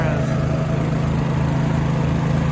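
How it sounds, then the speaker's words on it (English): A Dynamark riding lawnmower's engine runs steadily at close range, a loud, even low drone with a humming tone throughout and no pauses. "it's called a Dynamark. That's what the name of the lawnmower is."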